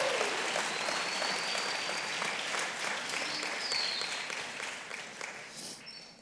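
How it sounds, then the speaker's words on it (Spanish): Congregation applauding in a church service, a dense, steady wash of clapping that fills the space and slowly thins toward the end, with no voices over it. "Dale fuerte el aplauso."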